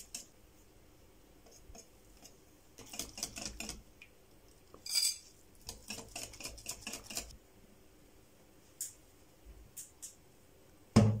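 Pancake batter being whisked in a bowl while flour goes in a little at a time, with scattered bursts of scraping and clinking of utensil against the bowl, separated by quiet pauses and no talk.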